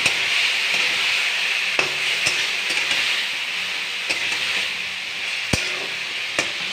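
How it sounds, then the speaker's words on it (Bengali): Onion frying and being stirred in a hot pan gives a steady bright sizzle, close and continuous, with occasional sharp scrape and tap sounds from the spoon. "পেঁয়াজটা দিয়ে একটু নাড়াচাড়া করে নেব, কষিয়ে নেব নেড়ে"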